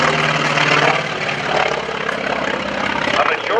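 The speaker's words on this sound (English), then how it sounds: "a majority of the engines used in World War II aircraft were air-cooled radial engines, radial piston engines" A loud, rough air-cooled radial piston engine on an FM-2 Wildcat aircraft drones steadily up close at an airshow, a continuous throbbing roar with propeller buzz.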